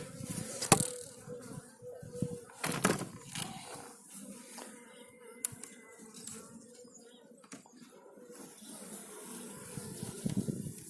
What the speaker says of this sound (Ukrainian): Бджілки ще літають.